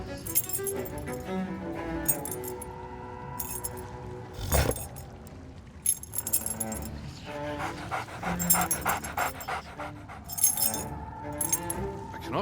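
In the pirate video game Sea of Thieves, a dog pants and a set of keys jangles in a prison-cell scene, with game music and clinking effects. Short bursts of rattling break in at intervals over a steady musical backdrop.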